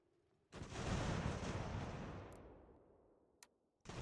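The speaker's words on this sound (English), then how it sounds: "Give them a couple of friendly hello volleys." A massed musket volley in Ultimate General: American Revolution, a single loud broadband roar that swells at once and trails off over a few seconds, followed by a couple of faint distant pops.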